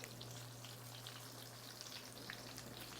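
Wild turkey nuggets fry in a pan with a constant soft sizzle and crackle of oil, fairly quiet and close, with no talking.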